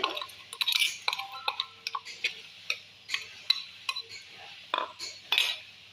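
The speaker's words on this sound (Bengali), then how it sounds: "এবার এর সাথে ভালো করে মাখিয়ে নেবে মাখিয়ে নে চামচ দিয়ে মাখা সুন্দর করে" A spoon stirs and mixes prawn heads with a ginger, garlic and green chilli paste in a metal bowl, giving a run of sharp, close clinks and scrapes in an uneven rhythm, heard on their own without talk.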